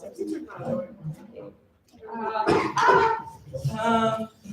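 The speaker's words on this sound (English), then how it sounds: "I'm gonna cough while I talk" A person talks while a cough breaks in partway through, rough and close, mixed with the ongoing speech.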